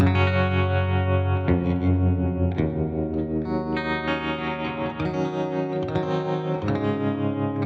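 Electric guitar played through the default Fender Twin amp preset on a Tonex, with chorus and echo effects, sounding as strummed chords that change every second or so, steady and loud with no talking.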